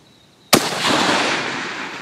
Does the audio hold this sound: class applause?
no